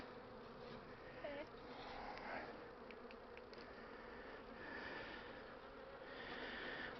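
Bees buzz continuously nearby, a steady droning hum with a few individual insects passing closer.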